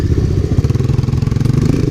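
A 1985 Honda ATC250SX three-wheeler runs on a trail ride, its engine a loud, close, steady throbbing rumble with rapid low pulsing and some clatter throughout.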